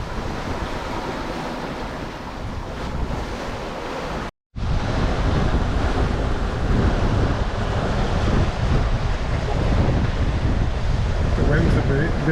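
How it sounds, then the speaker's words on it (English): A strong 20 to 30 knot wind and ocean waves roar steadily and loudly around a sailboat on a solo passage toward Panama, broken only by one very brief dropout. "The winds have been between 20 and 30 knots all night."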